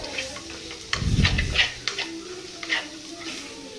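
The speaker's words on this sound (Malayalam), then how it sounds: "കുറച്ച് മഞ്ഞൾപ്പൊടി ഇട്ട് ആവശ്യത്തിനുള്ള മഞ്ഞൾപ്പൊടി ഇട്ട് നല്ല ഒന്ന് വഴറ്റിയെടുക്കണം." Turmeric powder is sautéed in a pan, with light scraping stirs and ticking clicks of a utensil over a faint sizzle, close by, while someone speaks.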